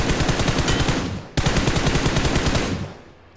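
Rapid automatic gunfire from the BEER11 shooter, a loud and close stream of evenly spaced shots in two bursts separated by a brief break.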